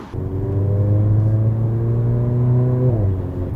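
A Mercedes GLA 45 AMG, sharing the CLA 45 AMG engine, accelerates hard: a loud, close engine note climbs steadily for nearly three seconds, then drops sharply as the revs fall away.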